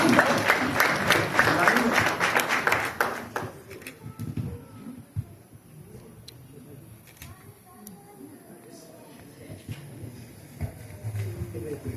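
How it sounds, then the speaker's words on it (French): Wedding guests clapping at a ceremony, a dense burst of applause for about three seconds that then thins to scattered claps and a low murmur of background voices and room noise. "Sous vos applaudissements,"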